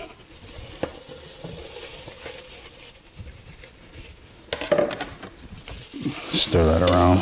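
Green peppers tossed into a pan for vegan chili give a soft sizzle that builds, followed by louder stirring scrapes and clatter toward the end.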